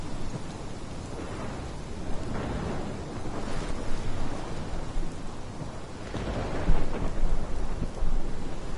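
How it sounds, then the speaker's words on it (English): A thunderstorm in the game Life is Strange: steady heavy rain with low rolling thunder rumbles swelling and fading throughout, loud and close with no talk. "This is my storm."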